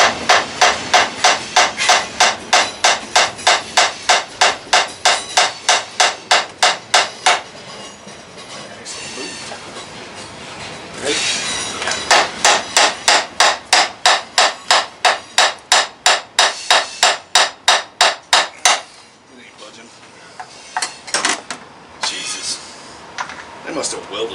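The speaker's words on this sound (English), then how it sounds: "I want you to tap it with the hammer to see if it breaks loose" A hammer taps repeatedly on a lawnmower transaxle part, fast metallic strikes in long rhythmic runs broken by pauses, with people talking between and under the blows.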